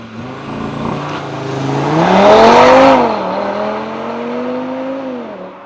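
An Audi RS3 in dynamic mode accelerates hard, its engine note climbing through the revs to a loud peak, then dropping as it shifts and pulls again, close and steady.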